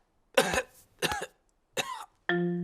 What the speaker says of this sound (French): Voilà que le docteur a attrapé la toux de Pedro maintenant.